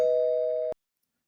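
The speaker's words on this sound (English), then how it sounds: "I'm just waiting for her to ring the doorbell to come in" A single electronic doorbell tone rings steadily for a moment, then cuts off abruptly into silence.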